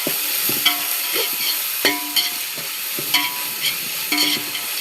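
Ginger garlic paste sautéing in a pan, soft sizzling broken by repeated scraping stirs of a spoon against the metal at an uneven rhythm, close and alone.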